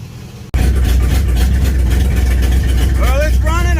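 A 1968 Dodge Charger R/T with a Holley Street Dominator intake fires up abruptly and settles into a loud, deep, rumbling idle close by, with a voice briefly heard over it near the end.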